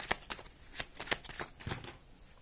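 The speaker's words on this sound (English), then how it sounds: "Shuffle one more time" A deck of tarot cards is shuffled up close, a quick run of crisp slaps and flicks in an uneven rhythm, quiet and without talk.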